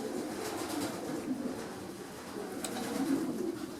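Pigeons cooing in a breeding loft, a soft continuous murmur of low overlapping coos from several birds nearby, steady throughout with faint rustling and no talking.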